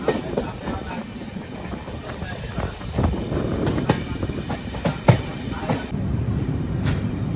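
A Kozhikode Jan Shatabdi express with LHB coaches runs steadily along a loop line near an old harbour terminal station, with continuous rumble and rhythmic clickety-clack of wheels over rail joints, loud and close throughout.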